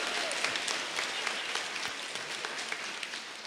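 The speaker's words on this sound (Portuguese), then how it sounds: "Pode aplaudir, pode aplaudir." A church congregation applauds, a steady wash of many hands clapping at once, even and sustained, heard at a modest level from within the room with no speech.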